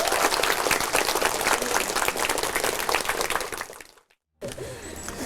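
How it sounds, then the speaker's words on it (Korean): Audience applauding for the head monk at a temple on a pilgrimage site, loud sustained clapping for about four seconds, then a sudden brief gap before the crowd noise resumes. "우리 여기 주지 스님한테 박수 한번 쳐드려."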